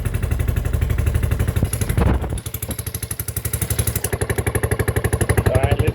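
A TrailMaster 300 XRS go-kart engine idles after a carburetor adjustment, chugging in a steady loud pulse that rises to a faster, higher idle, with a brief mechanical clatter partway through.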